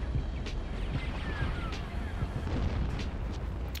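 Explosions in the video game Pixeljunk Shooter Ultimate rumble as a dense, continuous low booming with several sharper blasts, loud and heard without speech.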